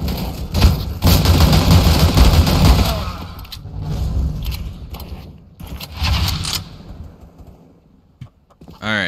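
Dual Berettas fire in rapid bursts during a Counter-Strike match, a loud, dense clatter of shots with short pauses between volleys, while other game sounds carry on around them.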